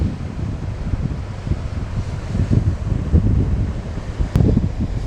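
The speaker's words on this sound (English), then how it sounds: "See the waves coming in, pretty rough." Rough ocean waves surge into a small rocky cove on Aruba, a loud rumbling wash that swells and recedes in uneven surges, mixed with gusty wind buffeting the microphone.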